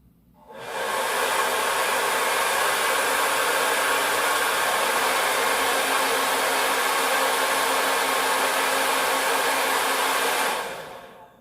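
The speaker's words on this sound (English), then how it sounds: "I actually could tell the difference between which blow dryer was blowing at the time." A loud, steady roar of two hair dryers on high, a standard dryer and a Chi Dura Handshot, runs continuously for about ten seconds, then cuts off.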